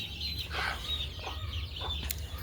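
Chinese and Rana ducklings kept in a cage with chickens, giving scattered high peeping calls and a few clucks over a steady low hum.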